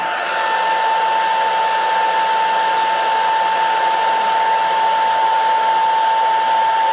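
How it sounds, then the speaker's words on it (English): A hairdryer blows continuously up close, a loud, even whooshing roar with a steady whine, used to dry a craft piece; no voices. "So you could use the hairdryer to dry it down just a bit."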